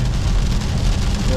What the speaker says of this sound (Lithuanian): prognozės nemelavo, bus lietaus, tai taip reikals lyj.